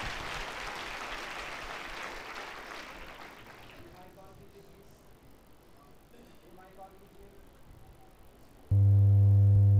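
A church congregation in Udaipur claps in thanks, a dense broadband patter that fills the first seconds and slowly fades before a loud, steady electronic tone cuts in near the end.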